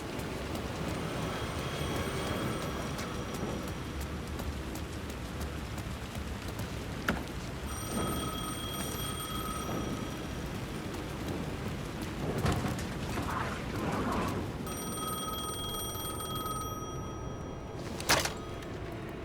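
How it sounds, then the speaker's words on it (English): A telephone rings in Alan Wake 2 amid a storm of rain and rumbling thunder. Several rings come in separated bursts, each a bright, repeated trill over the steady downpour, with a sharp crack near the end. "phone was ringing again"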